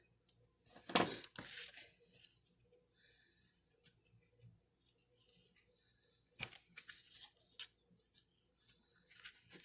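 Scissors snip through ribbon during gift wrapping, with a sharp close cut near the start followed by quiet paper rustling and light handling sounds.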